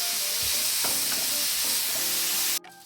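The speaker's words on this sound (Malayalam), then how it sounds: "അതേ എണ്ണയിലോട്ട് തന്നെ ആ ഉരുളക്കിഴങ്ങ് കൂടി ഇടുക" Potato pieces sizzling in hot oil in a pan, a continuous moderate frying crackle with occasional stirring knocks, cutting off abruptly near the end.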